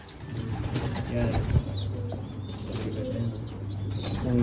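A bird calls loudly and repeatedly in high whistling notes, with a low cooing underneath and a background murmur.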